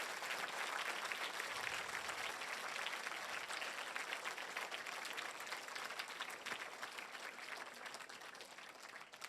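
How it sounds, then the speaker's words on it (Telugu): Audience applause at a memorial gathering, a dense, steady wash of many hands clapping together for about nine seconds, fairly loud and sustained with only a slight fade toward the end, no voices over it. "అందుకు ఒకసారి గట్టిగా చప్పట్లు కొట్టాల్సిందిగా తెలియజేస్తున్నాను"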